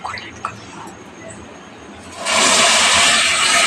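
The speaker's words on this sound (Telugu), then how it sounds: "1 టీ గ్లాస్ వాటర్ పోసుకోవాలి." About a tea glass of water is poured into a pan of jaggery for garavuntalu, a sudden loud splashing rush that holds steady after some brief speech and small clinks.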